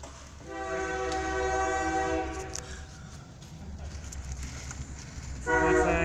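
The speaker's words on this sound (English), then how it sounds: "There's a train coming." A Union Pacific freight train's horn blares in long tones as the rumbling train passes at moderate distance in Chehalis, Washington, the horn fading out and then sounding again near the end.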